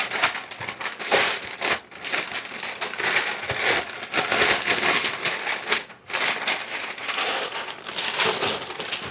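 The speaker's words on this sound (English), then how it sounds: "Wrap the whole thing in paper a couple of times." Packing paper is crumpled and wrapped around an item for shipping, producing loud, continuous close-up crinkling and rustling with brief pauses as the sheet is handled.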